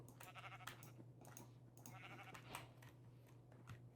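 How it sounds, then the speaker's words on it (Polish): Sheep bleating in the Minecraft video game, several short bleats in a row over a steady low game hum, moderately loud and without talk. "Jest owca."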